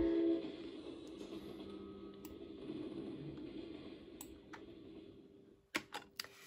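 A train in the video game Brick Rigs rumbles low and steadily, slowly fading, with a few sharp keyboard clicks near the end.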